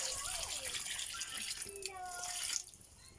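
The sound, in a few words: water being added to mung bean stew pot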